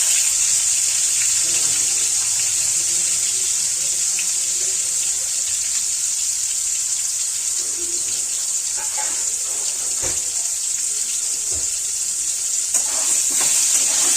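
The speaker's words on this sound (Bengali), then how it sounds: "সর্ষের তেল দিয়ে দিলাম একটু তেলটা গরম হোক গরম হয়ে গেছে এবারে দিয়ে দেব হচ্ছে আলুটা" Potatoes frying in hot mustard oil in a home kitchen, giving a steady, loud sizzle that runs without a break throughout with no talking, with a few soft clinks of stirring.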